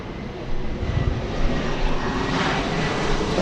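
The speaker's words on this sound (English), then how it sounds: "we still have takeoffs on the shortest runway here at LAX" A jet airplane taking off from the shortest runway at LAX, a steady broad engine roar heard from outside at a distance, swelling slightly and holding loud throughout with no talk.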